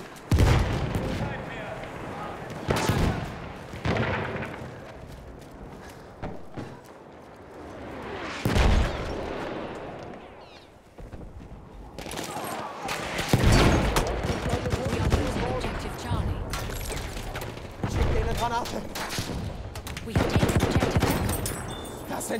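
Machine-gun bursts and booming blasts during a night battle in Battlefield at Prise de Tahure, recurring loudly through the stretch with voices calling out between them.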